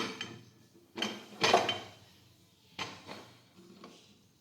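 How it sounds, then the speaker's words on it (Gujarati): A pressure cooker lid is pushed shut in a home kitchen while guar beans are set to boil, giving a few soft metallic clunks and scrapes separated by quiet pauses. "હવે આપણે કુકરનું ઢાંકણ છે તે બંધ કરી દઈશું."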